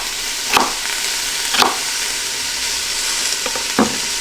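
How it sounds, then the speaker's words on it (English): Onion cooking in an Instant Pot: a continuous fairly loud sizzle with a few sharp scraping stirs spaced about a second apart, no talking. "While the onion is cooking"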